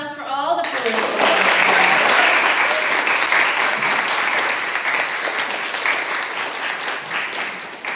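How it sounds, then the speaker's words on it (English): An audience at a poetry reading breaks into applause for the poets, a loud, dense burst of clapping that swells quickly after a brief spoken lead-in and holds steady before tapering slightly. "Can we get a quick round of applause for all the poets?"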